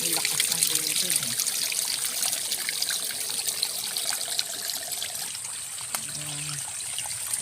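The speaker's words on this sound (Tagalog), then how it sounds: "Ang lakas ng tubig, oh." Water flows strongly through a trickling stream among trees, a steady close splashing wash with faint background tones.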